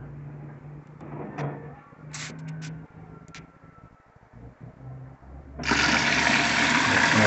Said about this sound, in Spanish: ahí está arrojando el agua solo en este contenedor de lavado